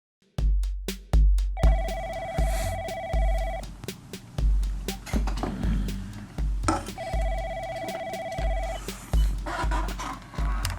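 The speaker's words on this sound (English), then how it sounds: "I get a phone call from Mike Hill" Phone ringing in a quiet room: repeated electronic ring tones in two bursts, separated by a pause, heard over scattered clicks and knocks nearby.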